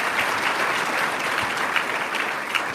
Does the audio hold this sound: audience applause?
yes